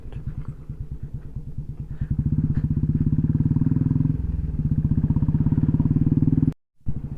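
A motorcycle engine drones loud and close with a rapid, pulsing beat as it rides off-road on a badly broken rural track, the revs climbing and then shifting before a brief cutout near the end.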